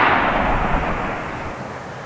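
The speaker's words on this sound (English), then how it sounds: "Left side target, 50 yards, 875, and firing." A shot from an AEA Zeus .72 caliber big-bore air rifle fired at a target 50 yards away, a loud broadband blast at close range that decays slowly into a rumbling tail.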